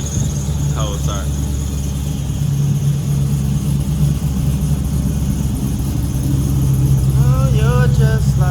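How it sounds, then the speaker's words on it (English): A Chevrolet Malibu idling on a snowy day to warm up after a cold start, a steady low engine hum with a couple of short squeals. "I gotta let it warm up real quick. Cold start."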